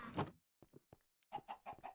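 A log chicken from the modded Minecraft pack StoneBlock 3 clucks in a few short, clipped bursts with gaps between them, fairly quiet and with no talking over it.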